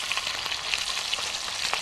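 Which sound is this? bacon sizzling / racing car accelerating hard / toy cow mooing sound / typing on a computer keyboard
bacon sizzling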